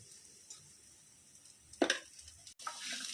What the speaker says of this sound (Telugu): వేయించాక కట్ చేసిన ఈ ముక్కలను ఇందులో వేసి 5 మినిట్స్ వేయించాలి.